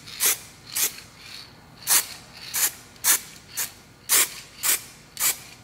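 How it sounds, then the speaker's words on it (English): Primer sprays from a can onto a plastic bumper cover in about ten short, sharp hissing bursts, evenly spaced and close to the listener. "I'll be able to control where the primer is spraying"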